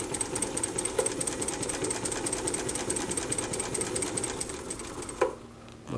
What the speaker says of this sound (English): Let's go along a little quicker and see how the Juki responds